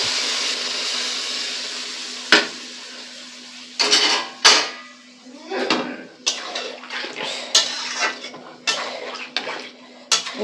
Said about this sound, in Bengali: এই যে এক বাটি জল নিয়ে নিয়েছি জলটা এর ভিতরে এবার দিয়ে দেবো